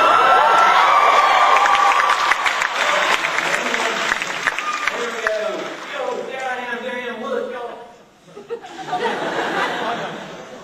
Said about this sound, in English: It looks like we have a big crowd here tonight.